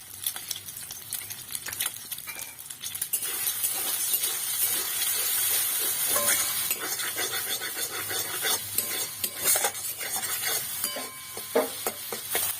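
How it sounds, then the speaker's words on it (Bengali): An egg fries in white oil in a wok, making a soft, continuous sizzle broken by scraping and clinks of a utensil against the pan, with no voices. "ডিমটা আমি ভেজে নেব।"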